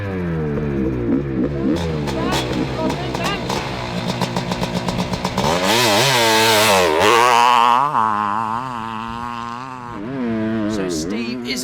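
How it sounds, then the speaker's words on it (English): A fuel-injected 500cc two-stroke racing motorcycle with a BRC engine screams around a track lap, its loud, buzzing exhaust climbing and dropping through gear changes and pulsing steadily on the straight. "So Steve is away then on board Kong, the fuel-injected 500cc two-stroke, powered by that awesome BRC motor"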